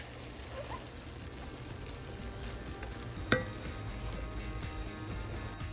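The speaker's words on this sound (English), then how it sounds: "the last thing that we're waiting for is just for that ground turkey to finish cooking" Ground turkey cooks in a pan alongside rice, giving off a steady low sizzle with light bubbling and a single sharp clink of a utensil partway through.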